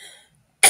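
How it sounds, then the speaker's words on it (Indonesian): A single sharp, close cough from a person, preceded by a faint fading sound and a short silence. "Aduh, batuk."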